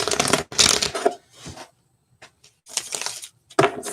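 Tarot cards are shuffled in bursts of crisp riffling and slapping, loud and close, separated by short quiet gaps.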